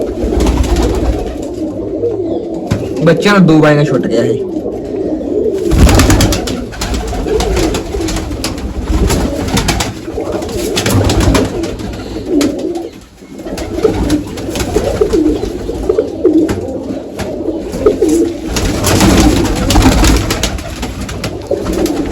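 Pigeons, including a large one, coo repeatedly at close range in a continuous, overlapping stream, with a voice speaking briefly over them.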